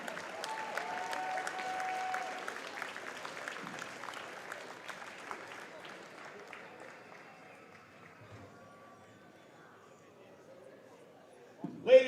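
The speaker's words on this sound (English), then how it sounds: "let's have another round of applause for our phenomenal seniors and their parents" Applause fills a school gym for wrestling seniors and their parents at a varsity boys dual meet, steady crowd clapping that slowly fades over about ten seconds before a sharp bump at the end.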